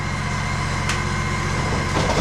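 A heavy 1,000-pound riding lawn mower runs steadily at close range as it is driven up onto a lawn care trailer, its engine a continuous low rumble with a brief rise near the end.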